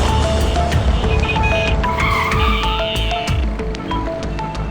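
A car in a TV crime drama scene screeches to a stop with squealing tires, the engine loud and close throughout with a sustained high-pitched skid.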